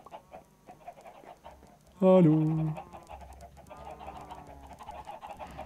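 Chickens clucking in a video game, a short loud burst of squawking clucks that briefly stands out over quiet background sounds, with a person's brief greeting nearby.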